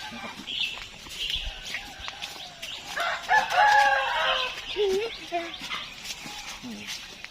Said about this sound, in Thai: นี่ก็เป็นไก่นะครับไก่นี่เขาก็เอามาเลี้ยงในนี้เลย